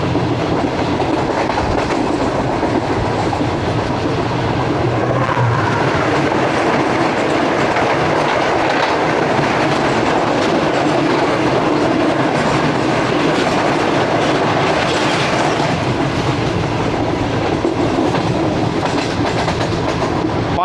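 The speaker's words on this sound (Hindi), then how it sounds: "park business express mix plate rake के साथ" The Park Business Express with a mixed-plate rake rolls past loud and close, its wagons keeping up a continuous rhythmic clickety-clack of wheels over rail joints throughout, with no voices.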